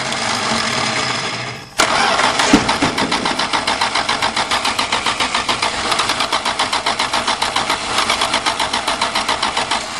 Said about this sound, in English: there's some cranking for you if you like that stuff